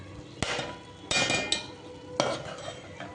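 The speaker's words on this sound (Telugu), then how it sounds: "బాగా కలపాలి, స్పూన్ కూడా అందుతుంది" A spoon stirs okra fry in a pan, giving three or four distinct scraping, clinking strokes against the metal with a faint sizzle between them.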